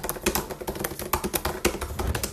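Fast, hard typing on a loud computer keyboard, a dense run of sharp clicking keystrokes in an uneven rhythm, close up with no voices.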